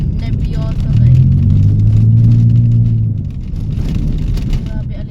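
A vehicle engine rumbles steadily during a ride on a dusty road, a low continuous drone that rises slightly in the middle, with muffled background chatter.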